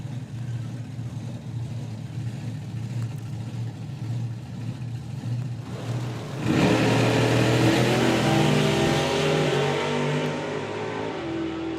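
A supercharged outlaw drag racing car blasts off on its winning run at Dragstalgia 2025, a steady engine drone suddenly erupting into a loud, harsh, sustained roar that holds at full power before easing slightly.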